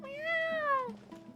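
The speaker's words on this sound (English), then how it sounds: "I'm too used to hearing the cat meows because there's a lot of cat places in the Genshin Impact" A single cat meow in the video game Genshin Impact, one clear, drawn-out call with a falling pitch, close and alone.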